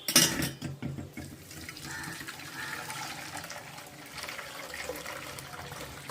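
Water pours into a vessel for a mint juice drink, a bright splashing rush that starts loud and steady, then settles into a continuous trickling fill for several seconds with no talk.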